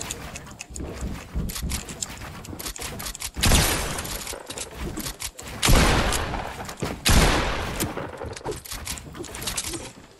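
Gunfire in a 1v1 video game on Nintendo Switch: scattered sharp cracks, then several loud bursts of rapid shots with short gaps between them, alone and fairly close.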